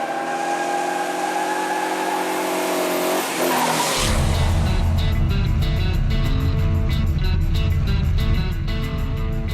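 A 1970 Dodge Challenger with a 426 HEMI engine fires up and pulls away, a deep rumbling V8 with a sharp rev and tire squeal, loud and close, followed by steady throbbing acceleration.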